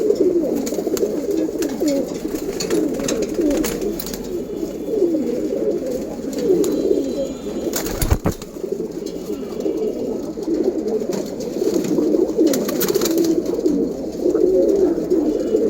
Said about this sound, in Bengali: কবুতরগুলো পানির জন্য পাগল হয়ে আছে, দেখেন কীভাবে পানি খেতেছে